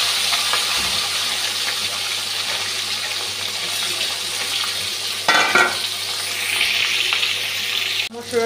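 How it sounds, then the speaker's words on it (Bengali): Katla fish pieces fry in hot oil with a steady, dense sizzle, fairly close and loud throughout, with a brief clattering disturbance midway and a sharp knock near the end. "মাছটা ভেজে নিচ্ছি।"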